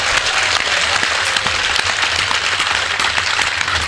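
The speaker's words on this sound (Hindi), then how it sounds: "एक बार पूरा सदन हाथ उठाकर जोरदार तालियां बजाए" A packed hall bursts into loud, thick applause during a patriotic poetry recital, a dense continuous wash of clapping hands with a low hum underneath and no voices over it.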